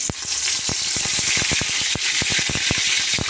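Loud, steady crackling sizzle of curry leaves dropped into hot oil, with rapid sharp pops spattering throughout.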